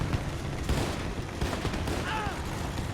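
In the Men of War 2 video game, a Brummbär assault gun fires at a KV-1 tank amid dense, continuous battle gunfire and booms, loud and busy throughout.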